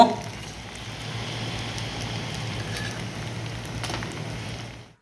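Leftover rice kurkure snacks fry in hot oil with a continuous dense sizzle and crackle, heard close and steady until it cuts off at the end.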